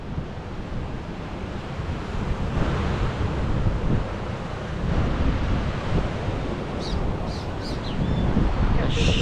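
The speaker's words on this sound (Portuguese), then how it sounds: "O mar tá bem revoltado aqui nessa região." Rough sea surf crashes steadily against the shore at São Francisco do Sul in Santa Catarina, Brazil: a loud, continuous roar of breaking waves mixed with heavy wind buffeting the microphone.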